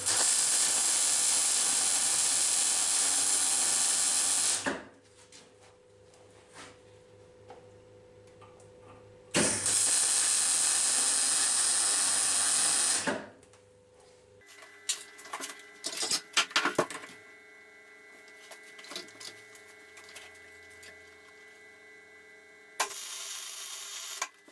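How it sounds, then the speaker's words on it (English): MIG welding on steel spacer bars, two loud, steady crackling hiss bursts of about four seconds each, separated by quieter clicks and metal handling, then a short burst starting at the end. "MIG welding, much easier."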